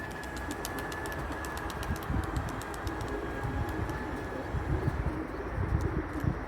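Racing pigeons coo softly as they are released from a loft, with the calls partly buried under a steady, broad rumbling background noise.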